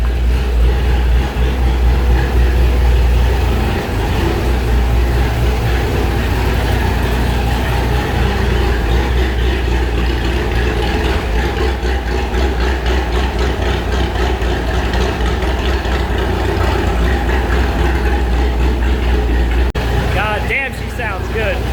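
An LS7 V8 idles while its oil warms up after a repair to a loose main bearing cap side bolt, giving a steady, loud, close low rumble with no change in pitch throughout.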